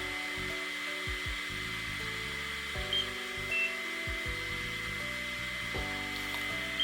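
A NIRA laser skin device runs with a steady, droning whir throughout, with shifting tonal hums rising and falling in pitch, much like a hair dryer running close by.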